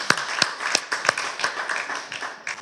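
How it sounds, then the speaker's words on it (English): A live audience claps for a film on a set, a burst of sharp hand claps up close, irregular and moderately loud, fading into scattered applause across the clip. "Let us keep clapping for that movie"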